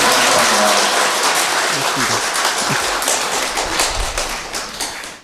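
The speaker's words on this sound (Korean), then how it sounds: "뜨거운 마음으로 뜨거운 그 환영하는 마음으로 박수로" Loud, dense applause from a Catholic parish workshop audience greets a visiting monk, a close, continuous wash of clapping that tapers off near the end.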